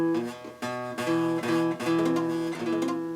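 A guitar strummed repeatedly with fingers accidentally touching other strings, giving a dull, choked chord sound in a steady series of strokes, close and alone.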